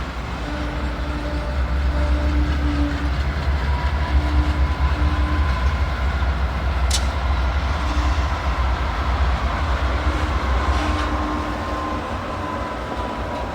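BNSF freight train hauled by old warbonnet-painted locomotives switching auto rack cars near Warner Road in St. Paul, heard as a steady low rumble with faint clanks and a brief squeal, alone without talk.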